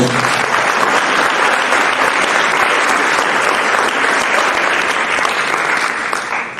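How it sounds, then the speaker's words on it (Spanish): An audience at a Colombian criminal law lecture gives a speaker strong, sustained applause, a dense roar of clapping that stays loud for several seconds before it starts to fade. "Por favor, un fuerte aplauso."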